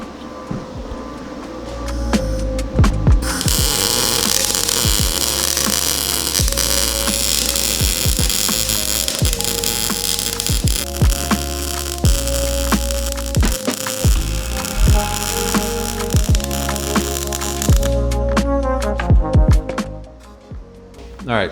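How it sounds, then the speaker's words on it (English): Continuous loud, crackling buzz of welding on a scrap-metal garden sculpture, with sharp ticks and pops throughout and a sustained hum, dropping away near the end. "So I'm going to keep welding here, though."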